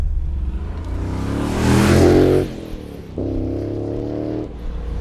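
An LS3 V8-powered BN Sports Mazda RX-7 pulling away: a loud, deep engine rises in a rev, drops off briefly at a shift, then settles into a steady low rumble, close by and with no talk.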